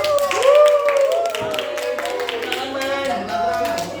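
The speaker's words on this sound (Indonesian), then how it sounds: "Ayo tepuk tangan." Classroom students clap in a quick, light patter during an Indonesian-language microteaching lesson, mixed with several voices chanting or talking over the claps.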